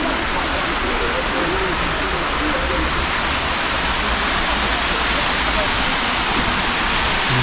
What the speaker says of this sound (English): Walking towards the waterfalls now.